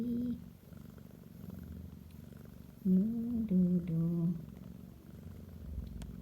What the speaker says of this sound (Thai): แอบดูน้องแมวกินนม